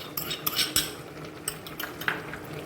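A spoon clinks and scrapes against a pan while chickpeas are stirred, giving a series of sharp, close metallic taps and scrapes at an uneven rhythm.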